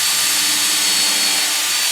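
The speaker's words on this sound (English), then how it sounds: "I'm going to drill a little pilot hole for this so I don't split the wood out." A power drill bores a small pilot hole into wood ahead of a nail. The bit makes a loud, close, continuous whirring grind that holds steady without a break, and no one speaks.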